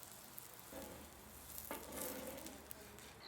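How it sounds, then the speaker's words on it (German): A small onion sizzles in a hot pan, a soft steady frying hiss that swells briefly as it is stirred or moved, quiet and close with no talk. "Ich habe hier eine kleine Zwiebel und die werde ich mir jetzt schön anbraten."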